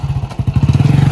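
A motorcycle engine idles and revs close by, a rapid pulsing chug that settles into a steady throb, with a brief clatter at the start.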